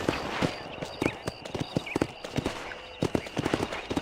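Horse galloping in the Western video game Red Dead Redemption, a quick, close clip-clop of hooves pounding in steady bursts with a brief whinny-like sound mixed in.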